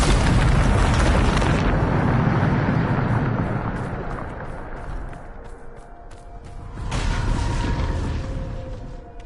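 Bombarda spell blasts in Hogwarts Legacy: a loud sustained explosive roar for several seconds, easing into rumbling debris, then a second burst erupts near the end.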